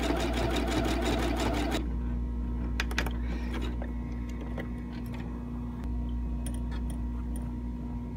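A sewing machine runs a fast, dense burst of stitching over the frayed edge of a handmade dough proofing basket, then stops, leaving a low steady hum and a few light mechanical clicks.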